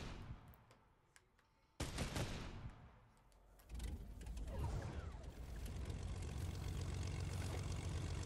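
Propeller airplane flying in a video game, a steady loud engine drone that surges in after a quieter stretch and holds, with mechanical clatter and bursts of gunfire layered over it.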